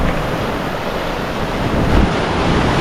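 Sea waves surging steadily at the Tip of Borneo, where two seas meet, as a broad continuous roar of surf mixed with wind buffeting the microphone, loud and close with no voices.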